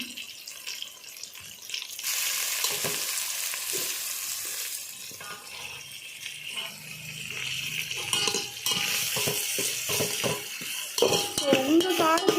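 Onions and green chillies sizzle and frying in oil for chicken biryani, with steady crackling and occasional stirring clatter close by, no talk.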